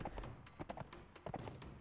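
Horse hooves clop in quick, uneven beats while riding in the video game Mount and Blade Warband, a brief and faint patter of galloping strikes with no talk.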